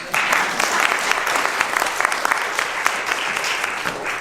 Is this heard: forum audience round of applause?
yes